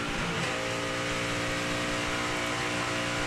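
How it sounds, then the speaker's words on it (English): Kyle Busch's NASCAR Nationwide Series race car at the 2008 Stater Bros 300 roars at full throttle, a loud, dense, sustained engine drone with layered harmonics filling the whole stretch, no voices over it. "Sounds like Kyle Busch engine running pretty good right here."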